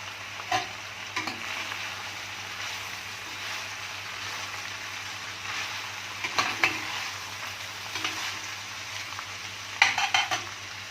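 Sliced onions sizzle steadily in a pan, with occasional scrapes and clinks as they are stirred, a soft continuous frying hiss throughout.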